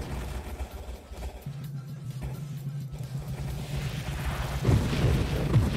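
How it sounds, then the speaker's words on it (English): A grenade gatling fires a steady stream of grenades in the space shooter Nova Drift, giving low, rapid thumping pulses and dull booms that build louder toward the end, with no speech. "I love just being able to constantly fire grenades"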